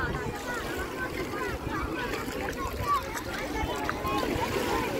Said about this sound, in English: Yeah, this is the beach.